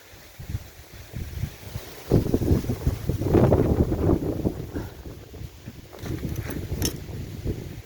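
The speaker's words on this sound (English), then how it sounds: "Gosh, it's breezy today." Gusty wind buffets a garden outdoors, a steady low rumble of breeze against the microphone that swells into louder, rougher gusts partway through.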